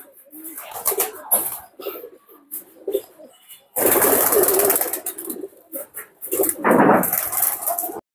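Mixed-breed pigeons in a high-flying pigeon loft coo and rustle up close in uneven bursts, loud stretches of wing flapping and scuffling break in, and a voice calls to the birds in between.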